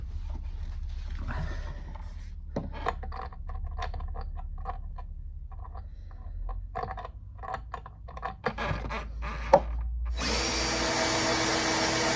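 Bursts of a power drill whirring in short stops and starts while drilling out a metal Peugeot 205 GTI bonnet hinge outdoors, then a long continuous high-pitched grinding run at the end.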